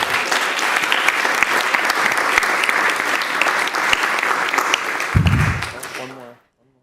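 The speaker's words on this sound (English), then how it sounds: "So a round of applause for the school." Sustained applause at a school board meeting for a secondary school, a full room clapping steadily and loudly for several seconds before tapering off, with a low thump near the end.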